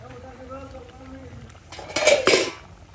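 A metal lid comes off a pot of red meat curry at a home picnic cookout: two close clattering metallic clanks over a half second, following a quiet stretch with a faint background voice.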